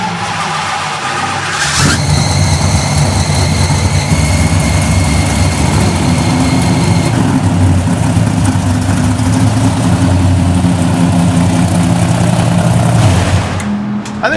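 A rebuilt Hemi V8 in a Hemi Gasser or Hemi Super Bee drag car runs loud and steady, with a deep throbbing idle that holds close and continuous for most of the stretch before cutting off at the end.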